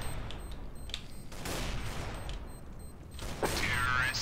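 Gunfire in the video game CS:GO, a few quick bursts of shots fairly quiet in the mix, with a faint voice and game sounds around them.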